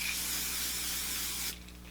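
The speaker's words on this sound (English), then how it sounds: "I'm going to take my Loma hairspray" Loma hairspray is sprayed onto hair in one continuous close hiss lasting about a second and a half, then it cuts off into quiet.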